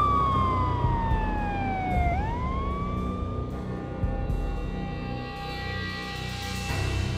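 Police sirens in the Max Payne video game sweep down and then rise again, a loud wailing tone with layered harmonics that holds over a constant low rumble of traffic and city noise, with no voices.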